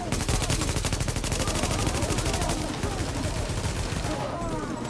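In The Division video game, rapid automatic gunfire bursts in quick, dense repetition, loud and close, easing slightly toward the end.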